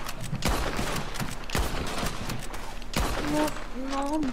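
Gunfire in Red Dead Redemption during a gang shootout, sharp shots and bursts going off repeatedly across the moment, mixed with loud, excited talking over the top.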